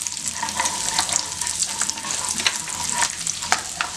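Eight garlic cloves, ginger and a slit green chili, for paneer butter masala, crackle and sizzle in a hot pan, with close busy frying and stirring scrapes throughout.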